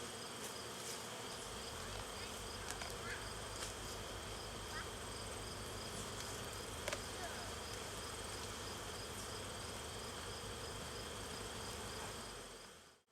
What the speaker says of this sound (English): There's plenty of bees here.